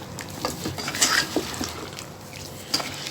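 Potato and cauliflower being stirred in a pan over high heat: a spoon scrapes and clinks against the metal in irregular strokes over a soft, steady sizzle.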